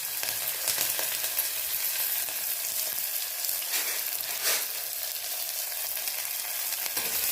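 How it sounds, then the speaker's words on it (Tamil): Onion, garlic, curry leaves and green chili sizzle steadily in hot oil in a pan, a continuous close frying hiss with occasional brief stirring scrapes and no voices. "வெங்காயம் நல்லா வதங்கிடுச்சு"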